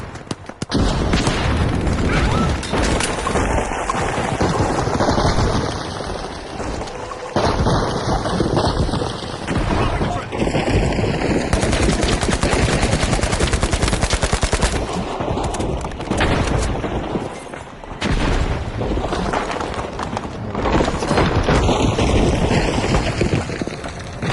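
Frag grenade blast and gunfire in the video game The Finals, a dense, loud, continuous barrage of booms and rattling shots with crumbling debris.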